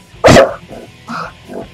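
Dog barking in the roguelike video game DoomRL, a loud single bark followed by two softer yips, with no talk over it.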